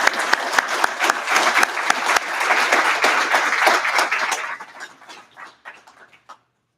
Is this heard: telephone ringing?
no